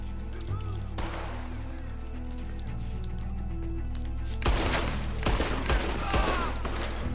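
Red Dead Redemption 2 night shootout: sporadic gunshots over a low droning score, then a dense, loud volley of rapid fire in the last few seconds, with speech heard.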